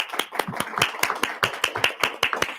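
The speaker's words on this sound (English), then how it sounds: "I just think it deserves a huge round of applause" Applause at a school board meeting: a small group clapping, a quick scattered patter of individual claps, fairly close and steady for a few seconds with no talking.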